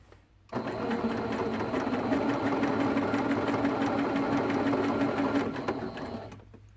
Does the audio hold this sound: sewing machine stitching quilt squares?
yes